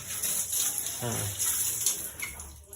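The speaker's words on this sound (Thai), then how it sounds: "ปรากฏว่าแรงขึ้นนะครับผมน้ำมีความแรงขึ้นนะ" Strong, steady rush of tap water flowing through a home electric water heater connected directly to the supply after a flow-restricting part was removed, continuous and close, with someone talking over it.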